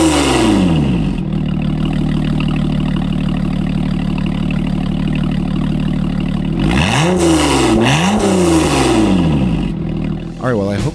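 A Lotus Evora engine idles steadily after a restart, loud and close, then revs up and down several times near the end.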